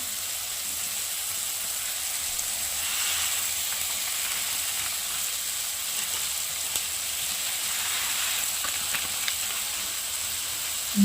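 Sev frying with vegetables in hot oil in a pan, a steady close sizzle and hiss with faint crackles and occasional stirring scrapes, no voices.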